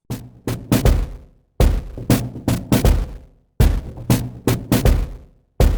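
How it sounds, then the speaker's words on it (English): Heavy drum hits distorted through a saturation plugin in a repeating pattern, punchy booms and crunchy snaps grouped in bursts with short silences between phrases. "you can also do sound design on drums."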